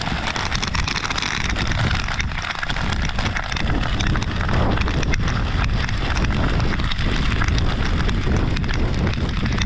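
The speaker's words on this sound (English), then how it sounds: "as soon as we get a gust, this fire starts running at probably 5 k's an hour" A stubble fire burning across a dry crop field in gusty wind, a loud, dense roar and rush with continuous crackle and heavy wind buffeting, close and unbroken throughout.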